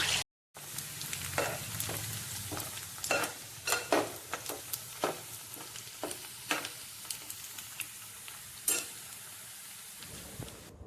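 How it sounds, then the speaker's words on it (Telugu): Chicken pieces sizzle steadily in a frying pan while being cooked for chicken pickle, with a spoon stirring and scraping against the pan in repeated sharp strokes over the constant hiss. "ఇలా మరీ గట్టిగా వేపేసుకోకుండా సమానంగా వేపుకోవాలి"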